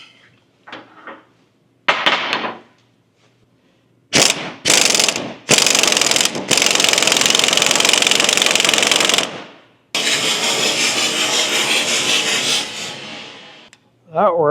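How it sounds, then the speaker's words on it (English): A socket wrench ratchets on a leaf spring bolt of a Scout 800, loud and close, in bursts of rapid clicking broken by short pauses. "I'll try this socket."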